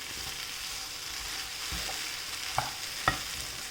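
Bitter gourd fry being stirred in a pan, soft scraping under a faint steady sizzle, with two sharp spoon-on-pan clinks near the end.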